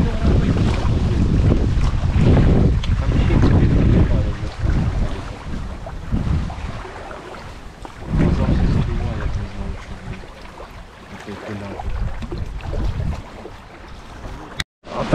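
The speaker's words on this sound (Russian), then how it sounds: "А ветер сильный, непогодные условия для рыбалки." Strong wind roars and gusts across the microphone on open water during a fishing trip for zander, loud buffeting that rises and falls throughout, with faint voices beneath.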